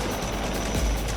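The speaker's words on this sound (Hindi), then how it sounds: "ये है ध्रुव हेलीकॉप्टर। 2 इंजन वाला यह हेलीकॉप्टर मल्टी रोल है" A twin-engine Dhruv multi-role Coast Guard helicopter thrums loudly and continuously, a dense rotor and engine roar with rhythmic low beating, no voices over it.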